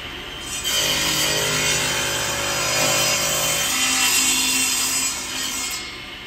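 A handsaw cuts through wood to form a dado joint for a range box for smoothbores and shotguns, a steady close rasping stroke lasting about five seconds before trailing off.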